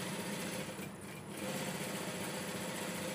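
An electric sewing machine runs continuously, close and steady, with a fast mechanical whir and a brief dip in speed as it stitches a single seam along folded frock fabric, with no voices.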